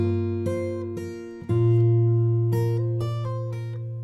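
Fingerstyle acoustic guitar picks out the intro of a song, plucked notes and chords ringing in a steady phrase, close and clear, with no talking.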